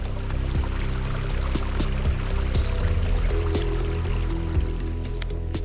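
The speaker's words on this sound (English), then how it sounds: "The water that irrigates his rice field is purple and frothy." Polluted, purple, frothy water flows steadily into a rice field beside textile factories, a continuous close pouring and trickling wash with low rumbling undertones.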